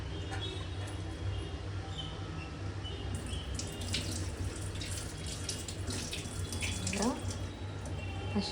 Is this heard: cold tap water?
yes